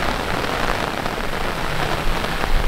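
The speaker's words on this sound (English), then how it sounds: "it is so rainy right now" Heavy rain pours steadily during a flash flood at a beach, a dense, loud, continuous hiss of drops hitting the surface with no pauses and no voices over it.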